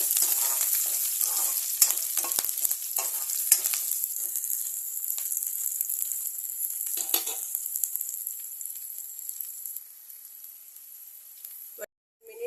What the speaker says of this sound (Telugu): గ్రీన్ చిల్లీ వేసి ఒక 1 minute ఫ్రై చేసుకోవాలి.